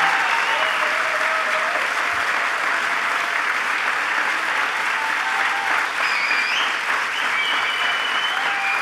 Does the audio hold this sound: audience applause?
yes